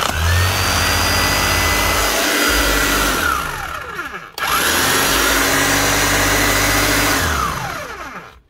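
A Bosch GBH 5-38 D rotary hammer's powerful electric motor whines up loudly, spins down, then revs up again in two long runs.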